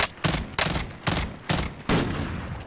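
Rapid gunfire in Call of Duty: Modern Warfare Warzone, five loud sharp bursts in a steady rhythm with a ringing tail between shots and no voices over them.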